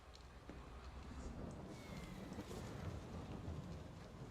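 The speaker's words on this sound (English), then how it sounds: "Why does it sound like thunder when it's snowing?" Thunder-like rumble during snowfall in the Farming Simulator video game: a continuous low, rolling roar with a broad hiss of wind-and-rain-like noise, steady and fairly faint throughout.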